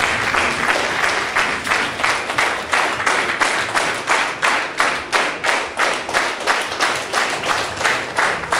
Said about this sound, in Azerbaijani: onu yüksək ayaq üstə bir alqışlayaq